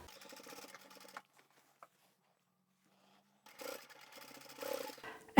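A sewing machine stitches the side seams of a scrap-fabric shopping tote, running in two separate bursts with a quiet pause between them, moderately close and with no talking.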